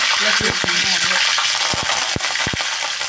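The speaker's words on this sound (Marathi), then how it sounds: "आता आपण थोडंसं जिरे मोहरी टाकून देऊया तेलामध्ये" Cumin and mustard seeds crackle and sizzle in hot oil in a pan for a potato curry, a loud continuous fry punctuated by sharp pops and metallic clinks of a spoon against the pan.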